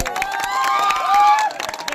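A crowd at a rural cooperative election nomination rally in Fatehpur, Gaya, claps and cheers, with a brief, bright burst of shouts and whistling over scattered applause.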